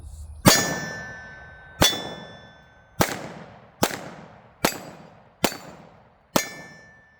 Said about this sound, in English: I'm gonna try some double shots on the larger steel targets